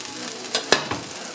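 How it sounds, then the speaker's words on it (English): Potatoes dropped into hot oil in a pan, giving a steady close sizzle with a few sharp bursts and stirring scrapes, and no talk. "Add a little bit more oil,"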